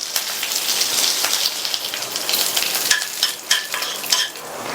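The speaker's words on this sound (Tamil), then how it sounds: "தாளிப்பு போடுறதுக்கு 2 டீஸ்பூன் எண்ணெய் விட்டு சூடானதும் கொஞ்சமாக கடுகு, உளுந்து, அடுத்து கறிவேப்பிலை போட்டு" Mustard seeds, urad dal and curry leaves crackle and sizzle in two teaspoons of hot oil, a dense, close hiss with popping bursts throughout and no talk.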